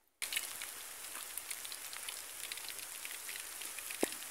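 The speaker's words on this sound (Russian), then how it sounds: "дождь пошел" Steady rain pattering close by, a continuous crackling hiss with a single sharper knock near the end.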